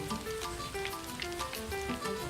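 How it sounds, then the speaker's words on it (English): Light rain patters steadily on a surface in a cartoon scene, a soft continuous hiss at low level with a faint tonal musical bed beneath. "It's raining. We can play in the rain."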